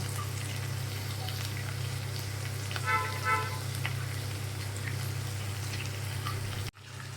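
Crushed garlic with onion frying in oil in a pan on a home stove for a Bengali dish, a continuous even sizzle under a low steady hum, with a brief stir midway.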